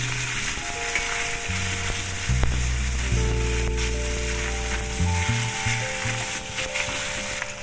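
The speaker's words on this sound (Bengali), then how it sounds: "মাছের তেলটা ভাজা হয়ে গেছে" Fish fat, rubbed with lemon juice, salt and turmeric, fries in hot oil with dried red chilli, making a continuous close sizzle under faint sustained background tones, with no voices.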